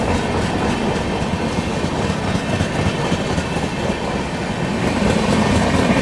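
The Antyodaya Express, a Jaynagar–Udhna train, crosses close by with a loud, continuous roar of rolling coaches and steady clickety-clack of wheels on rail joints, no voices heard.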